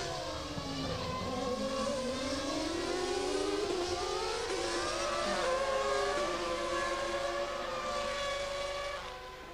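A Formula One race car screams past at the 1995 Japanese Grand Prix, its loud, high-revving engine note gliding up and down in pitch in a continuous roar with no talk.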